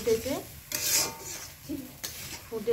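A spoon scrapes and stirs sour okra chutney with added water in a pan, giving soft, uneven rubbing strokes with light sizzling, close and moderately loud, with a few brief scraping bursts.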